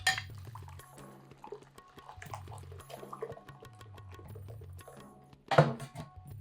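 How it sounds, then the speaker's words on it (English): A thick custard paste being stirred in a bowl: steady scraping and soft clinks of a utensil against the bowl, with a sharper, louder clink near the end. "we stir it together"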